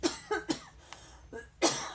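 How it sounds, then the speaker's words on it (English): Several sharp coughs from one person nearby, a quick pair followed by single coughs after short pauses. "I'm coughing away from this."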